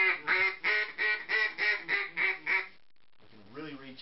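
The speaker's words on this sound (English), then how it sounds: "this has got the raspiness and the grogginess that you really want in a call" A TNT Custom Calls duck call is blown in a string of about eight raspy, nasal quacks at an even rhythm, loud and close, then a brief pause before a softer trailing call.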